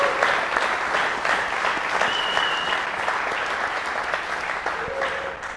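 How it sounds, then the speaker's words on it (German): A large audience at a business seminar applauds steadily and loudly for several seconds, with a few whistles cutting through the clapping before it slowly tapers. "Kleiner Applaus an euch alle."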